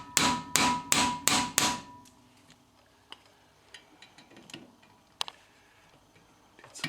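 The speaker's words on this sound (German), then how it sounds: "da braucht auf jeden Fall einen Schlagschrauber dafür" An impact wrench hammers at the brake disc screws on a Porsche 944 S2 during front wheel bearing work: five loud, evenly spaced rattling bursts in quick succession, then scattered faint clicks and taps in a quiet workshop.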